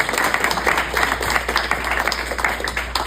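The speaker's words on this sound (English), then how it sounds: "give a round of applause." Audience claps at the close of a community business meetup in St. George, Utah, a moderate crowd applauding steadily with slightly uneven bursts.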